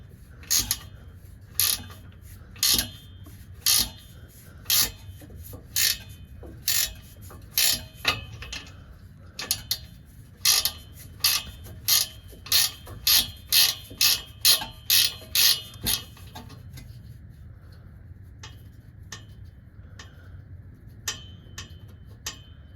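A ratchet wrench loosens bolts on the engine of a 1997 Toyota Tacoma with a 3RZ engine, sprayed with penetrating oil, giving rapid bursts of sharp clicking repeated many times, then sparser clicks toward the end.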